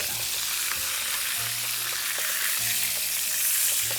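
Burger patties sear in a pan, producing a dense, loud, continuous sizzle with scattered crackles, heard up close over a low intermittent hum.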